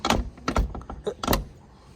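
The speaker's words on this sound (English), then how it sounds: "Listen to that clunk though, come on." A few heavy clunks close by, a Volvo 242 door shutting with a solid thud amid jangling and handling noises.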